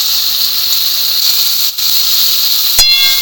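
Sour yogurt hits a hot pan of spiced Bengali rohu fish curry and sizzles, a loud steady hiss that continues close and unbroken with a brief dip partway.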